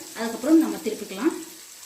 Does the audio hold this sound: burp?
no